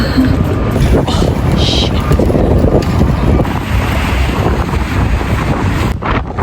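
Strong wind buffets the microphone during an outdoor walk, a loud, constant roaring rush that stays dense and unbroken, easing briefly only near the end.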